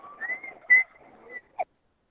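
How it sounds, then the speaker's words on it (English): A person whistles a short melodic phrase in a vocal class setting, a few wavering notes ending with a brief higher chirp, fairly close and clear. "Who is whistling over here?"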